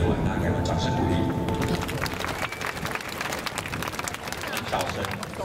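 An outdoor crowd claps and cheers at a fireworks concert in Miaoli, a dense, loud wash of applause that swells after a brief lull and carries on with some crowd babble.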